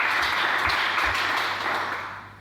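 A church congregation applauds during a French-language sermon, a dense, steady wash of many hands clapping that holds loud and even before slowly tapering off.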